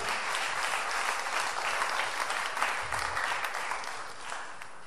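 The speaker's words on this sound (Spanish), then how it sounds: "Denle el aplauso al Señor." A church congregation applauds the Lord during a Spanish-language service, a dense, steady wash of many hands clapping together for several seconds, full and continuous with no talk over it.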